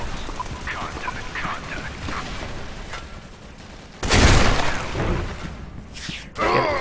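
Frag grenade going off in the shooter game Soldier Front 2: a loud, deep blast bursts out of a busy backdrop of game noise and fades over a couple of seconds, followed by another sharp burst near the end.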